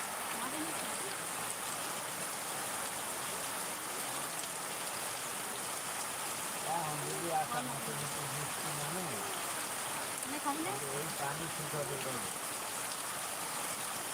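Steady rain patters on surfaces outside a rural home as a continuous hiss, with voices talking intermittently underneath the downpour.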